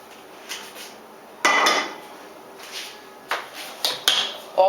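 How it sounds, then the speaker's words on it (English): Tuna, tomatoes, garlic and pesto oil tipped into a bowl for bruschetta, giving a series of light clinks and clatters of utensils against the dish, close and fairly quiet, with louder knocks near the end. "this is the tuna, the tomatoes, the garlic, the beautiful pesto oil, all going in a bowl"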